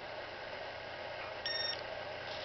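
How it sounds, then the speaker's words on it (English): One short electronic beep from a Fatshark 9XR head tracker, a clear tone lasting a fraction of a second over faint background hiss. "so I just got to press the button down, it'll beep."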